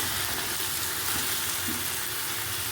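Boiled chicken is tipped into spice paste with green chillies frying in a pan for a chicken curry, giving a steady, loud, close sizzle throughout.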